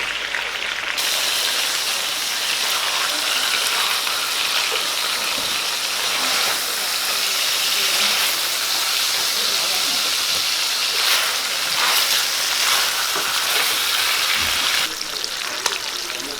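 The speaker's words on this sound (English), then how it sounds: "I want to just finish the steaks off on the high heat" T-bone steaks sizzling hard on a tawa over high heat, a loud, dense, continuous hiss of fat spitting that holds steady from start to finish with no voices.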